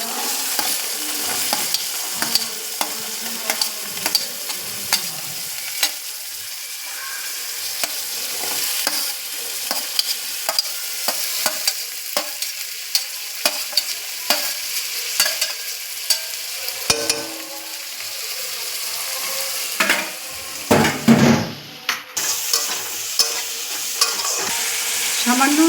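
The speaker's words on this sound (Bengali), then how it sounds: "ওই বাটার আর তেল এর মধ্যেই গাজর আর ক্যাপসিকামটা ভেজে নিচ্ছি।" Carrot and capsicum fry in a mix of butter and oil, a loud continuous sizzle with frequent spatula scrapes and stirring clicks throughout, close up and without talk.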